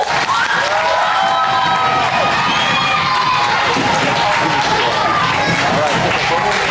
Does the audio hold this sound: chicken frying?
no